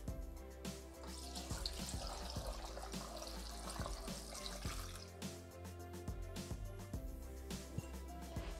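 Water pours steadily from a tap into a Thermomix bowl holding carrots, potatoes, shallot, sugar, salt and stock cube for soup, a faint continuous splashing trickle over a quiet music bed.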